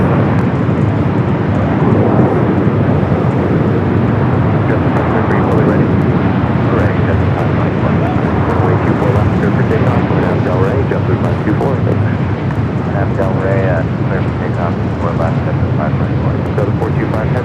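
A heavy jet airliner rumbles in to land at LAX on runway 24 right, its loud, broad engine roar sustained throughout, with people talking over it.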